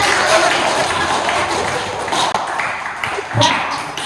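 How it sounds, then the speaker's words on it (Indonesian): A classroom of students claps for a volunteer during a poetry lesson, giving a brief burst of scattered hand claps with voices mixed in. "kasih tepuk tangan"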